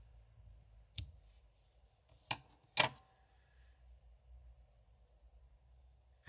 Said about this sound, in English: So go ahead and snip your yarn.